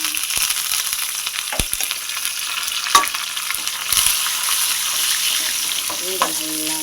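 Crushed garlic and curry leaves dropped into a hot pan give a steady, close crackling sizzle, with a few sharp spatters and light stirring clicks near the end.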